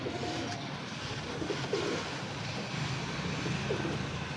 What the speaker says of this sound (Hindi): सलारे हैं ये कबूतर